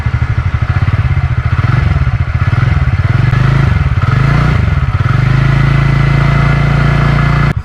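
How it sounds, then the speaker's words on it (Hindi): A 2022 TVS Ntorq 125 Race Edition scooter engine runs close and loud, a throbbing idle with rhythmic clatter that rises and falls slightly in pitch before settling back to a steady beat. "अभी स्कूटर का हम साउंड सुन लेते हैं।"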